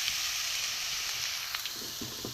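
Grated beetroot and carrot frying in a pan, a dense steady sizzle and hiss with a couple of soft spoon scrapes near the end, brief and unaccompanied by voices.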